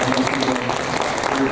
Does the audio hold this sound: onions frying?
no